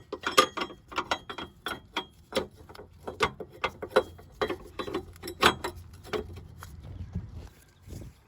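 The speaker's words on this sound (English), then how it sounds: "So this pulley should come off now." Rapid metallic clicking and ratcheting from hand tools working loose the water pump pulley on a 3.3L or 3.8L Dodge Chrysler Caravan minivan, close up in irregular bursts with no talking.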